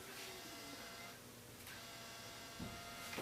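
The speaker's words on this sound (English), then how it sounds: "The whirring sound is very familiar from the Wii." A Wii U console starting up gives a faint, steady mechanical whir with a light hiss, ending in a couple of soft clicks. There is no speech.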